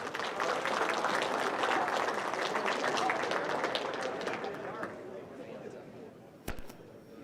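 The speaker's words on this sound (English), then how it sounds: "He does a great job every year, so if we give a round of applause for Dan, he will take it from here." An audience at a WisDOT design awards ceremony applauds, a broad wash of clapping that fades out after about five seconds, followed by quiet room tone and a sharp handling knock near the end.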